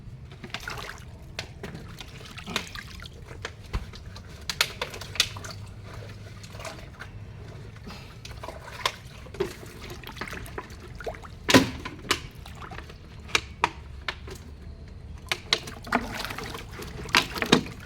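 Water splashing and sloshing as plastic gallon containers are rinsed outdoors for a vegetable-growing setup, with scattered, irregular sharp splashes over a quiet, low wet background.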